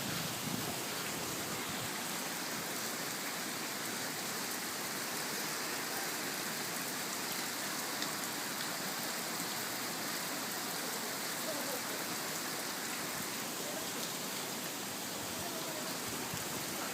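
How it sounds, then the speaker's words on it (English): Steady rain falling outdoors ahead of forecast thunderstorms, a dense continuous hiss of drops that stays even and close throughout with no talk. "This is rain."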